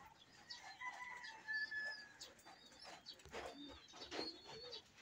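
Birds in a pigeon loft make a busy mix of chirps, whistles and squawking calls, some close and some farther off, rising and falling in loudness without any talk.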